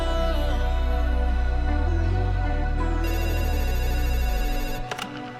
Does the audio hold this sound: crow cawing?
no